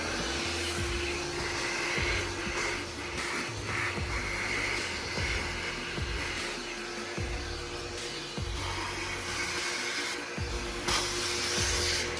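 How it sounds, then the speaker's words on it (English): A vacuum cleaner runs steadily with a constant whine, joined by rhythmic rubbing and bumping as it works over pet hair in an SUV interior. "And then you just take your vacuum, turn it on."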